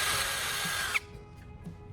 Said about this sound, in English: I'll use a piece of sandpaper while the drill spins the rod, creating a fine pointed tip